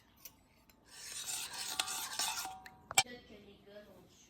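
A spoon rasps and scrapes around a bowl as sugar is stirred into an egg-free, dairy-free brioche mixture, a steady gritty rubbing for about two seconds followed by a sharp clink against the bowl, then quiet.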